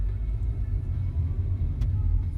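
A Mazda3 pulling away in gear, a low steady engine and road rumble heard from inside the car, continuous and moderately loud with no voices.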